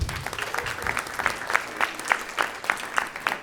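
Scattered, thin clapping from a small concert audience at a jazz quartet performance in a college music series, individual claps distinct and irregular, moderately close.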